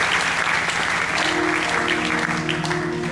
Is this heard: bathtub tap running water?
no